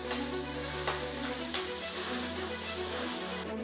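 A paste of ground chilli, ginger and cumin frying in a pan for chitranna, steady soft sizzling with a few sharp scraping stirs, close and moderately loud over a low background hum.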